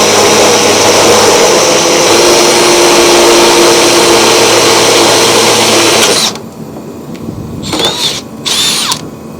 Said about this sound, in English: Now you're going to swap bits and drill that out.